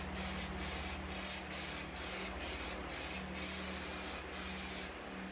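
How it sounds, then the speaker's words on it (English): Contact adhesive sprays from an aerosol can onto interior car panel material in regular bursts, roughly nine loud, close hisses separated by brief pauses, with no talking. "like a contact adhesive. So you want to spray it on both sides, and then it makes contact with itself to stick."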